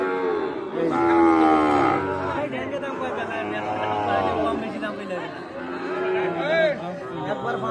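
Sahiwal cattle, including a four-year-old, at a livestock market, with low moo-like calls and crowd chatter under steady nearby talk.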